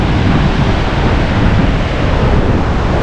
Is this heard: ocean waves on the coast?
yes